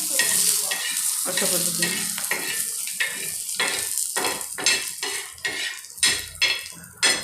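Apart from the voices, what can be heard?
whole spices frying and being stirred in a pan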